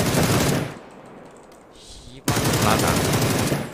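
Bursts of rapid automatic gunfire from a shooter video game blast loud and close, drop away into a quieter gap, then resume in a dense continuous volley, with excited shouting over the shots.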